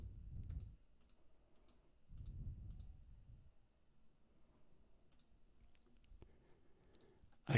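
A computer mouse gives a few sharp, quiet clicks while page sections are removed in a browser, spaced apart with soft low thumps between them in a near-silent room.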